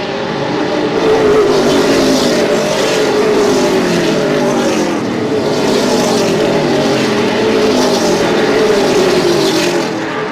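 Race cars run laps at a dirt or asphalt speedway, several engines roaring loudly and continuously with rising and falling drones as the pack passes, strung out in single file.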